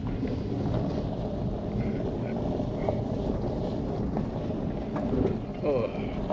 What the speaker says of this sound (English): I'm going to drive up in there